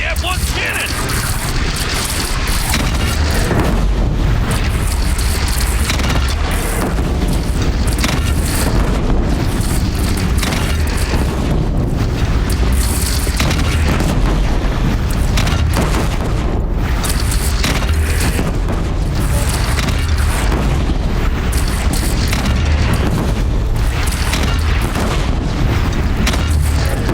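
Cannon fire in the Horizon Zero Dawn video game booms repeatedly amid dense, continuous battle noise, heavy blasts and crashes blending into a loud roar with shouting voices mixed in.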